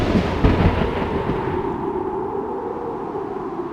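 Thunderstorm in the Clue video game: a deep rolling rumble of thunder that slowly fades over several seconds, heard alone with no talk.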